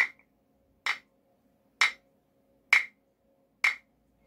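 A wooden Chinese block struck five times at an even, steady pace, each hit a crisp, dry, hollow knock that stops short, with silence between strokes.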